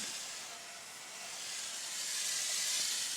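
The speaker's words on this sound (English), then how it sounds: "I want you to look at the distance of my hand sprayer to the mask." Water sprays hard from a hand sprayer held close to a sandcarving mask on acrylic, making a continuous bright hiss that swells slightly toward the end. No one speaks over it.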